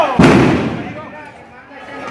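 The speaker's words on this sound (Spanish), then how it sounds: "Oigan los balazos, oigan los disparos" A single sharp gunshot cracks out loudly during a street clash with police in Jinotepe, Carazo, followed by a decaying echo and murmuring voices in the background.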